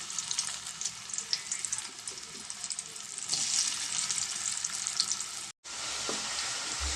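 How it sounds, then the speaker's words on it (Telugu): Spiced potato pieces fry in oil in a kadai, a continuous bright sizzle that swells midway, drops out for a moment and then carries on. "ఇప్పుడు మనం ఈ బంగాళదుంపల్ని దీంట్లో వేసుకొని ఫ్రై చేసుకున్నామండి"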